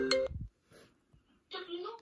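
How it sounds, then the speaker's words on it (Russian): Telephone ringing with an incoming call, a short electronic ring burst followed by a pause and then another ring, faint and close by in a quiet room. "вот она звонит"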